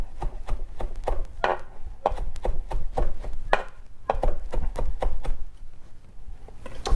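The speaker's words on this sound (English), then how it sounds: "pass the knife again to get a rough chop" A knife rough-chops vegetables for an Afghan salad on a cutting board, giving about two dozen sharp, close knocks in a brisk, uneven rhythm with no voices.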